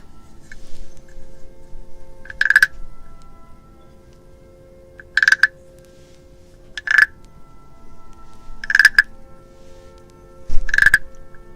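Five short, sharp croak-like calls spaced about two seconds apart rise over a faint, steady background. The frog sound comes from a Halloween potion roleplay.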